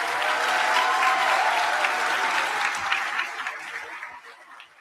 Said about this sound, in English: Let's give another round of applause for all of our graduates today.